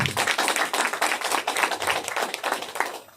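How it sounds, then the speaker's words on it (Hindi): A room of seminar attendees clap together in a brisk, loud burst of closely spaced hand claps that lasts a few seconds before tapering off. "आप सभी अपने लिए जोरदार एक बार ताली बजाएंगे"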